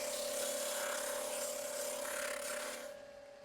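A sander works along the edge of a handmade leather phone holster, giving a steady broadband rasp with a constant motor hum that holds for about three seconds, then trails off as the leather lifts away.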